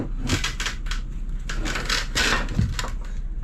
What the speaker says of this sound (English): sound is the mesh cracking.